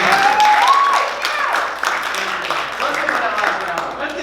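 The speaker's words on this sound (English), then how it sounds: "Give yourselves a round of applause." An audience at a Valentine's Day performance bursts into sustained applause, dense clapping filling the room, with a voice briefly rising over it.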